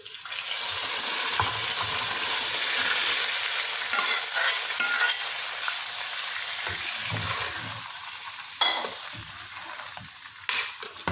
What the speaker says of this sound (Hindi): बघार में मैंने ज़ीरा डाला है और सुरख मिर्चें साबुत डाली हैं।